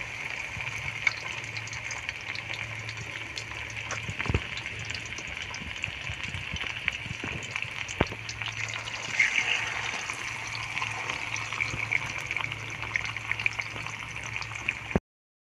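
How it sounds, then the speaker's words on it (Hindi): Surmai fish frying in oil over low heat gives a steady, even sizzle with a low hum beneath it. The sound runs unbroken at moderate loudness, then cuts off abruptly near the end. "तो अब एक एक करके हम इसमें फिश डाल देते हैं, हल्की आंच पे इसे हम फ्राई कर लेते हैं।"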